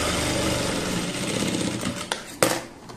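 Sewing machine stitching two cut fabric pieces together, running as a steady close mechanical whir that slows near the end, followed by a couple of brief clicks.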